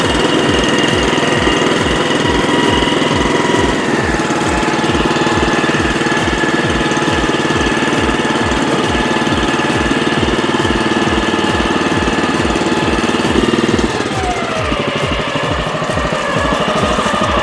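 A J-FAP mowing machine engine runs steadily and up close with a fast, regular knocking beat, and its tone shifts partway through as the load changes.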